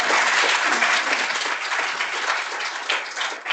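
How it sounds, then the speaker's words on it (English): A lecture audience breaks into a round of steady, fairly close applause, dense clapping that carries on throughout and tapers slightly at the end. "an achievement that requires a round of applause in itself"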